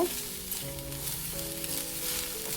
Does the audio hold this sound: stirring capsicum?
yes